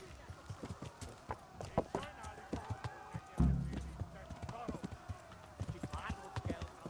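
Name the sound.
horse hooves galloping, video game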